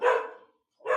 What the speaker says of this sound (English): I've never heard her bark.